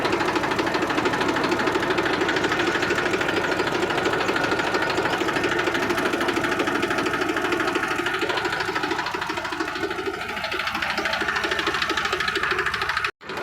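A 380 top model tractor engine runs at a steady, loud, close rumble with a rhythmic knocking beat throughout, then cuts off abruptly at the very end.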